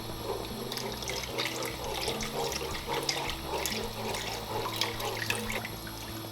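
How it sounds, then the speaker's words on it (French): Lightly iodized seaweed broth is poured into soy milk soup in a home kitchen, a steady liquid splashing and trickling at close range with no talking. "Et maintenant on va y incorporer mon bouillon légèrement iodé."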